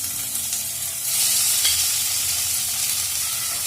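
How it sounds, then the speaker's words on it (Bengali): Marinated chicken pieces go into hot oil, a bright hissing sizzle that swells about a second in and then holds as a dense, close frying roar, with no voices. "এবার আমি ম্যারিনেট করা চিকেনগুলো এই তেলটার মধ্যে ছেড়ে দেব, দিয়ে আমি হালকা ফ্রাই করে নেব।"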